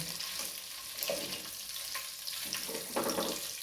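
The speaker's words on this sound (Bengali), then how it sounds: "যে পিসগুলো আমি তেলে দিয়েছিলাম সেগুলো মোটামুটি ফ্রাই হয়ে গেছে।" Marinated green hariyali chicken pieces fry in hot oil, giving off a steady, soft sizzle and crackle throughout with no voices.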